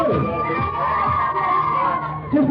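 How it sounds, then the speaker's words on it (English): Fair crowd of adults and children cheering and shouting for everyone, a steady loud roar of voices, briefly rising at the close. "A big round of applause for everybody."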